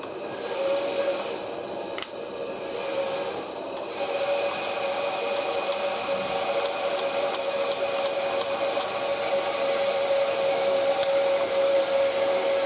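A bandsaw runs in a workshop in the background, a steady whining mechanical drone with a constant high tone that holds throughout at moderate distance.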